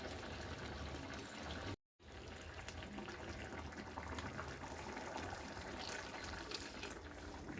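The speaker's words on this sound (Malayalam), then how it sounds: "നമ്മുടെ മിക്സിയുടെ ജാറിലേക്ക് കുറച്ച് വെള്ളം ഒഴിച്ചിട്ട്" Water is poured into a mixer grinder jar while cooking a dried prawn, jackfruit seed and raw mango curry, giving a steady close splashing fill with a brief pause partway through.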